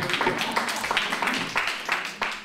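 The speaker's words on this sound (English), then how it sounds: "Let's clap it up for that question." An audience at a campaign presentation by attorney Antonio Delgado claps, a steady patter of hands lasting a couple of seconds, fairly close and continuous.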